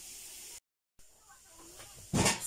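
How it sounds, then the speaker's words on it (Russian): Dough sizzles as it fries in a pan during a long home batch of frying, a steady hiss that briefly cuts out and then swells into a louder crackling burst at the end. "Жарим, продолжаем."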